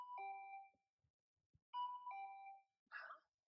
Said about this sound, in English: My body reacted reflexively as I heard the doorbell.